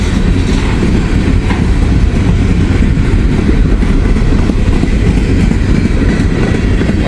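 A loud, close freight train of empty potash cars crawls by, a dense, unbroken rumble punctuated by rhythmic wheel clatter on the rails, with no one talking.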